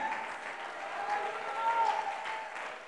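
A congregation claps steadily together, a dense and continuous patter of many hands filling the room at an even, moderate loudness.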